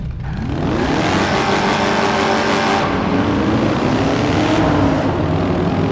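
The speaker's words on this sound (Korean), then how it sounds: "제가 배기음 한번 들어볼게요" A loud car engine revs up, its exhaust note rising and falling in pitch, close and sustained with no talking.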